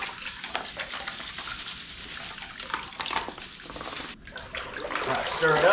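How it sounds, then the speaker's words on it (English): Salt and citric acid solution being stirred in water to tan a cowhide: close, continuous sloshing and swirling with a brief pause and a splashier stretch at the end. "Right, stir it up."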